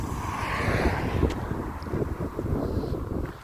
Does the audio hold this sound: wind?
yes